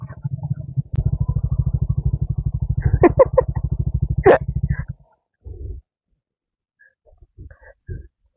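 Motorcycle on a ride from Pune to Junnar, its engine close and loud with a rapid, steady thumping idle that cuts off after about five seconds, followed by a few scattered knocks and shuffles in the quiet.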